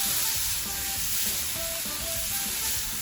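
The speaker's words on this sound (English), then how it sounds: "Now I'm going to add a tablespoon of ginger garlic paste." Ginger garlic paste sizzles in a hot pan for a chicken and mushroom kebab curry, a strong, steady frying hiss up close with light stirring scrapes and no voices.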